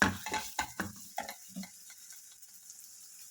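Onions cooking with ginger garlic paste in a pan for a veg spring roll filling give a few close stirring scrapes and light sizzling bursts in the first moments, then fade to near quiet, with no speech.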